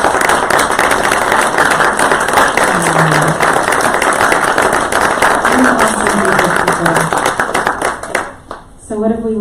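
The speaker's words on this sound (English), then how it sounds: "Just give them a round of applause." A church congregation gives a sustained round of applause, dense loud clapping from many hands with cheering voices mixed in, fading out near the end.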